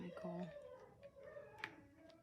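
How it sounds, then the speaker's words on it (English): Faint, distant dogs howling in drawn-out, wavering tones, with a few brief sharper cries, against a quiet background. "You might hear the dogs."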